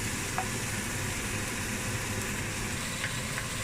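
Bumbu spice paste frying in a little oil for Indonesian nasi goreng, an even, loud, continuous sizzle close up, with a couple of faint ticks and no speech.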